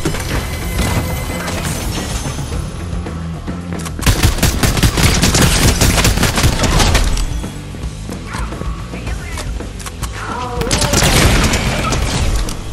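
Midas's drum gun in Fortnite firing in rapid, dense bursts of loud automatic gunfire, with brief pauses between volleys and other game sounds around it.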